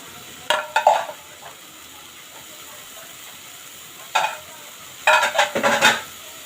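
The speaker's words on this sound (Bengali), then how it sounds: "চিংড়ি মাছগুলো আমি সুন্দর করে কষাই নিয়ে" Prawns being sautéed in a pan for a bottle gourd curry, heard as a quiet background sizzle broken by several short bursts of stirring and spatula scrapes, loudest toward the end.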